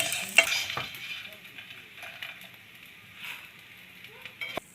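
Four kinds of melon seeds frying in ghee, a steady crackling sizzle with spoon stirring scrapes and a few sharper clinks, close and moderately loud, no talking.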